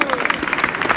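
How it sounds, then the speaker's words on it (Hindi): Audience clapping for a singer at an informal gathering, quick uneven claps close by with a crowd murmur and some talk mixed in. "इसकी गायकी के मुताबिक तालियां दीजिए।"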